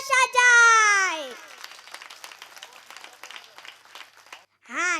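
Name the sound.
audience clapping at a kirtan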